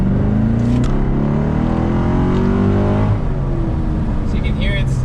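A Chevrolet C7 Corvette with a catless X-pipe exhaust idles loud and close in track mode with the valves open, a deep steady burble that shifts briefly partway through, while a voice talks over it.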